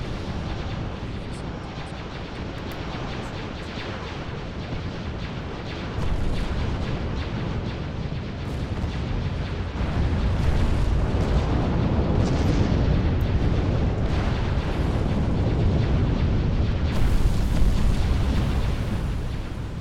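Flak fire in the space battle game Star Wars: Ascendancy rumbles as a dense, continuous barrage of booms and bursts that swells louder partway through, with no talk over it.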